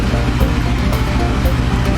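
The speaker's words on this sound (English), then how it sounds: "then I'll turn my water on" Water rushing steadily into a gold-washing feed system with a funnel and jigs, a continuous broadband splashing roar that stays loud and close for the whole stretch.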